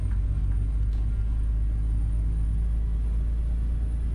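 Low, steady truck engine rumble while driving in American Truck Simulator, a constant deep drone with a faint high whine on top and no talking.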